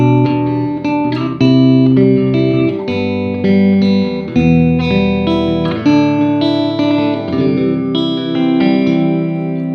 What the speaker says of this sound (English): Let's start with the Iridium. Just a clean tone